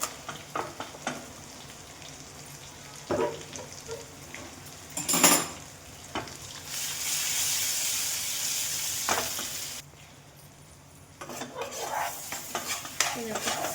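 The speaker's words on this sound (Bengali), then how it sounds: "এই মাছের ঝোলটা ফুটে গেছে" Singh macher jhol, a thin Bengali fish curry, cooking in a pan, heard as a steady close sizzle and bubbling. A metal spoon stirs and scrapes with a few clear knocks, and the cooking noise drops off for a short stretch near the end.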